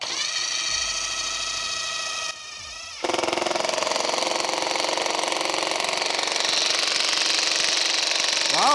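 Ridgid Max Output impact driver running in mode 1 on a 4.0 battery, a loud, close, steady rapid rattling hammer that dips briefly before picking back up and continuing without pause.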